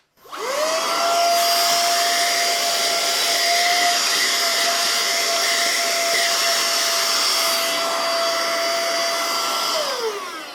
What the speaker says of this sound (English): So it's a vacuum cleaner that sucks and blows